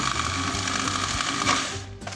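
Food processor chopping butter beans into a coarse paste for sausage rolls, a steady close whirring and chattering of blades that runs continuously, then briefly drops out near the end.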